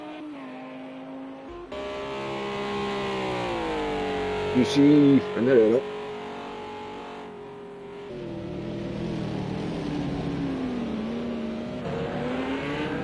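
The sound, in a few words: GT3 race car engine revving in a sim racing game at Spa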